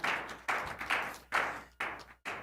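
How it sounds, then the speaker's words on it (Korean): A church congregation at a Friday worship service applauds together, a close burst of brisk, uneven clapping that comes in rapid surges over a few seconds. "그 좋으신 하나님께 영광이 박수 한번 올립시다"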